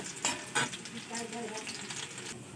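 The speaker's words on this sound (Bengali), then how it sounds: "একটু ভাজা ভাজা করে নেব, বাদামি কালারের করে নেব।" Chopped garlic and black cumin seeds fry in hot oil, a steady close sizzle with a few louder stirring scrapes near the start.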